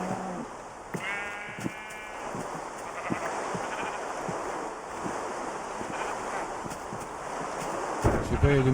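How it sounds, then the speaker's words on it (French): Sheep in a video game give two short bleats, one near the start and one at the end, over a steady wind- or surf-like background hiss. "il y a des moutons, ils me donnent de laine"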